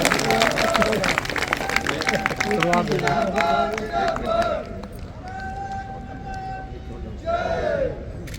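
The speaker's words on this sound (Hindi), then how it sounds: "सब लोग तालियां बजाकर स्वागत करें" A rally crowd cheers and claps to welcome party leader J.P. Nadda, with loud shouting and babble over scattered clapping, voices carrying throughout and a sustained chant-like cry near the end.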